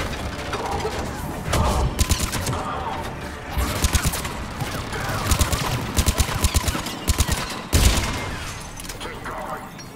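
Rapid bursts of turret gunfire in the Mass Effect 3 Cerberus Attack battle, repeated volleys of sharp shots across the clip with a heavy boom near the end, mixed with game noise and speech.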